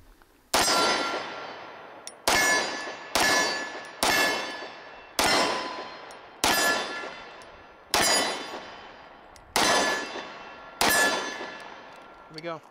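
Kimber Black Ice Rapide 10mm 1911 pistol fired at a steel target from about 22 yards, nine loud sharp shots, each followed by a ringing clang, spaced about a second or more apart.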